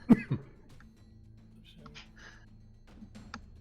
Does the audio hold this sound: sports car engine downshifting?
no